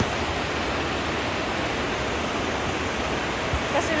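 Loud waterfall water rushes in a dense, unbroken roar at high elevation, close by and steady throughout.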